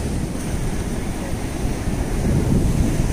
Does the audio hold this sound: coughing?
no